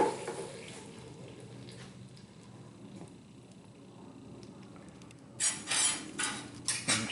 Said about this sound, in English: I'm going to dump our support blocks here in the water bucket.